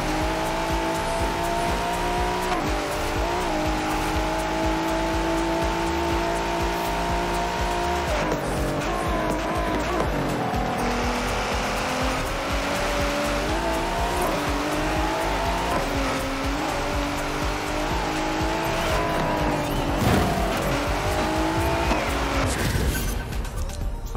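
A 1000-horsepower naturally aspirated BMW M3 E46 drifts in the video game Forza Horizon 4, its engine revving hard and constantly while the tires squeal and skid in long stretches, loud and close, with no voices.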